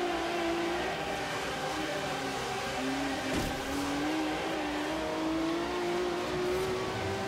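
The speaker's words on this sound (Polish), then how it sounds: "Samochód buksuje na każdym biegu praktycznie przy starcie." Hypercar engine in Forza Horizon 3 revving hard with wheelspin at a race start, a steady loud rising engine whine throughout with a brief burst of noise midway.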